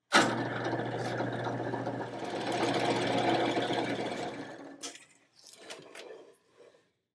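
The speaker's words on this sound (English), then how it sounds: "we're going to mark and drill these 7/8 holes" A power drill boring 7/8 inch holes while building a portable workbench: a steady, loud whirring drone for about four and a half seconds, then it winds down into a few quieter, shorter bursts.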